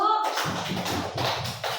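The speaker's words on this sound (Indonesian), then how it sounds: "Tepuk tangan untuk Bapak Ibu." Brief scattered hand clapping from a small group, lasting under two seconds, with a voice briefly audible.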